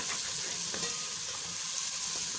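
Spices for kadhi pakora fry in a pan with a steady, soft hiss of sizzling oil, unbroken and without talk.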